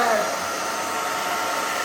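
A blow dryer runs continuously while drying a freshly cut pixie haircut with bangs, a close, loud, steady whooshing hum with no pauses.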